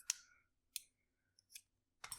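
Scissors trimming clear heat shrink tubing: three or four sharp, crisp snips spaced about half a second apart, close and quiet, followed by a brief rustle of handling.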